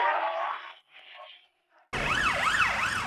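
An ambulance siren wails in news footage, a loud rising and falling electronic tone that cuts in abruptly after a second of quieter sound and a brief pause, then carries on steadily to the end.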